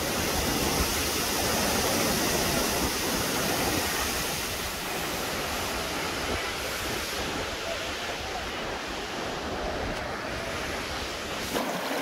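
Mountain waterfall in the Basho valley near Skardu, northern areas: a steady, dense rush of falling water, loud and continuous throughout, with some wind buffeting on the microphone and no talk.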